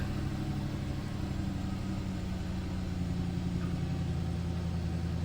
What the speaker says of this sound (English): It's not running quite well. It's idling weird.